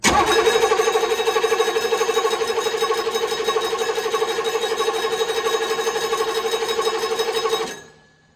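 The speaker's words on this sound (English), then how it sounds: "We're gonna go ahead and crank it over now and see if we can get some fuel to come out of there." The diesel engine of an M998 Humvee cranks continuously, with a steady rapid pulsing of the starter heard loud and close for about seven seconds before it cuts off.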